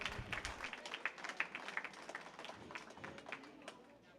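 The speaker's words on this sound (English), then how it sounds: "Give them a big round of applause as they all head out." Audience applause at a junior livestock show's goat showmanship event, a steady patter of many hands clapping across the arena at moderate distance, with voices and crowd noise mixed in.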